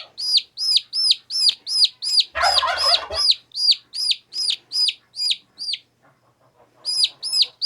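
A very young chick, around a day old, gives high, piercing peeps in a steady, rapid series, loud and close, with a brief rustle partway through and a short pause near the end.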